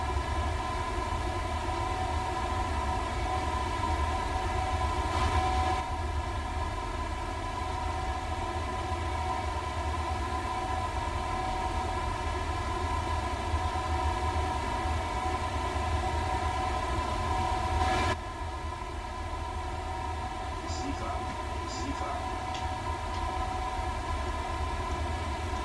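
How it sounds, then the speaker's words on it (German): BR101 electric locomotive hauling the Europa express train in Train Sim World 4, a steady loud rolling drone with tonal motor hum throughout, easing slightly near the end with faint high chirps. "Unser Europazug."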